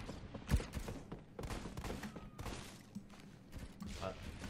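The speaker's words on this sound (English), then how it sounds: "I'm being shot from there." Gunfire aimed at the player in the Roblox first-person shooter Phantom Forces: irregular, fairly faint bursts of shots and clattering weapon mechanics, with no voices.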